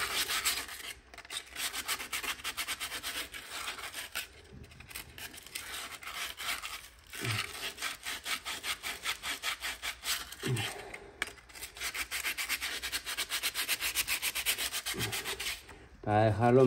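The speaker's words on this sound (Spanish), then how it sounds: "Lo que voy a hacer, le voy a pasar una lijita fina." Fine sandpaper rubs back and forth on a clutch part from a Citroën C4 1.6 HDi, giving close, rhythmic scratchy strokes in long runs with a few short pauses and clunks.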